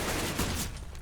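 Dense gunfire from a Counter-Strike match crackles in a loud, continuous burst of overlapping shots that thins out toward the end.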